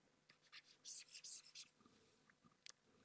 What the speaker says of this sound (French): Je vais l'écrire au-dessus.